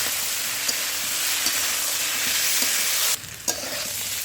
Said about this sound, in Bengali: আমি আদা, বেটে রাখা আদা আর কাঁচা লঙ্কাটা দিয়ে দেবো। এটা হালকা করে একটু ভেজে নেব।